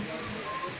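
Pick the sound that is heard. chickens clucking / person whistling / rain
rain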